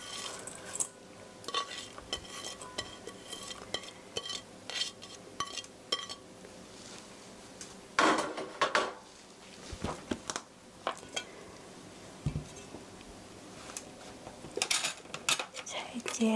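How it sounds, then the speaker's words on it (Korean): Chopped onion and other cut ingredients for a tomato pancake are tipped into a bowl, giving scattered clinks and clatters of utensil and dish over a few seconds, with a voice talking at times. "이렇게 썰어놓은 재료들 다 같이 넣어주시고요"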